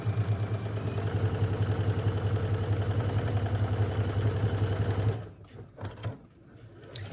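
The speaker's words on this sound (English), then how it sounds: "The last step is just to sew this top unit to our bottom unit." Sewing machine stitching the top and bottom units of an acorn quilt block together, a steady close mechanical whir for about five seconds before stopping, leaving only faint handling noises.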